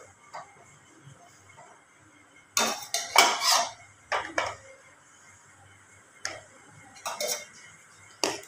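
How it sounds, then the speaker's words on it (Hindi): A spoon is stirred through tea in a pot, giving sparse metallic clinks and scrapes in short clustered bursts, some close and fairly loud, separated by quieter stretches. "बस इसी तरह चम्मच चलाना है"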